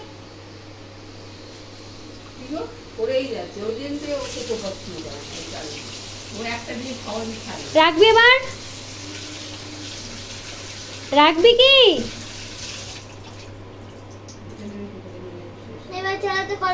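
Water runs from a household tap in a steady background rush while a child and an adult talk over it in several short exchanges.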